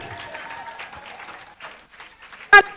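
Applause from an audience in a hall for Madame Gbagbo, a fairly soft clatter of clapping with crowd murmur and a voice underneath, ending in a loud sharp burst near the end.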